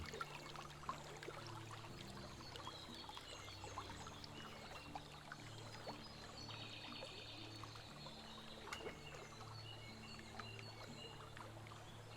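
Gentle trickling of a small creek in the medieval survival game Medieval Dynasty, a steady soft stream of water running throughout, faint and continuous with no talking.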